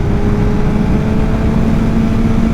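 Kawasaki ZX7R motorcycle pulling hard in third gear, a loud, constant close engine roar with a steady pitch, heard from on the bike.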